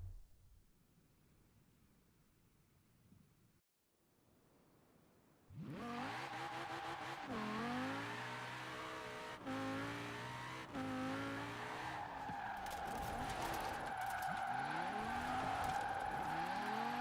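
A BMW races in a driving video game: quiet at first, then an engine roars in loud and close, revving up and shifting through the gears, with a tire squeal near the end.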